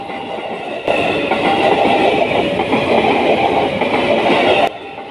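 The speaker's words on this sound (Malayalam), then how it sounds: "ഒരു ചെറിയ ഹായ് വിളിയോടെ അടുത്ത ട്രെയിനും ഞങ്ങളെ കടന്നുപോയി" A passenger train runs past close by on a railway line in Indonesia, a steady loud rumble of wagons on the rails lasting several seconds before dropping away.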